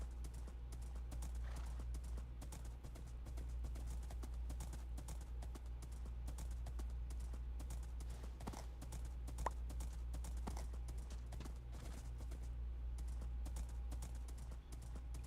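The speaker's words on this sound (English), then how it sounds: "Buy a horse for 3 tokens?" Horse hooves in the Minecraft Hypixel game clip-clop in a steady, quiet rhythm while the horse runs around in circles, with a faint click or two and no talking over them.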